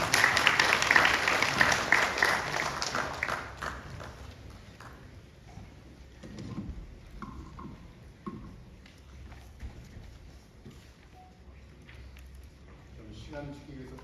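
A conference audience applauds to welcome a presenter at a national assembly infrastructure forum. Strong clapping fills the opening seconds, then fades into a quieter room with scattered noises and talk.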